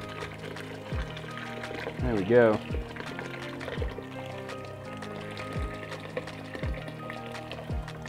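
Boiling water is poured into a glass vessel during blackberry winemaking, a short rising pour with ringing glassy tones at close range, set among light clinks and a person talking.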